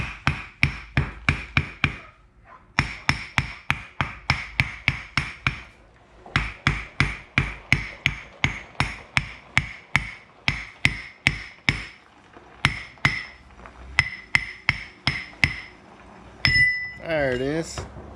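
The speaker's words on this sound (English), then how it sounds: "Look, you can use a hammer." A hammer strikes metal in a car workshop, a long run of sharp ringing blows in a steady rhythm with brief pauses, close and loud, ending in a burst of scraping metallic noise.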